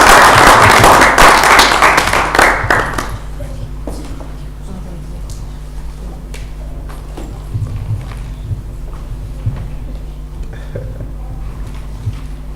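Audience applause at an international business conference, a broad burst of clapping filling the room for about three seconds before fading into a quieter hall with scattered sounds.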